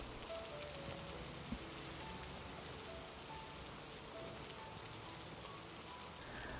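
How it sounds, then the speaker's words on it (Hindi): Steady rain patters on a surface, a soft continuous hiss of drops at moderate distance, even and unbroken throughout. "सर्दी आने से पहले की खूब बारिशें आजकल स्टार्ट हो चुकी हैं।"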